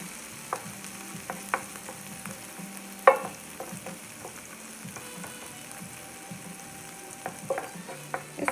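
Vegetables cooking in an electric skillet set to about 250 degrees, a steady soft sizzle under scattered stirring clicks and scrapes of a utensil against the pan, close by with no voices.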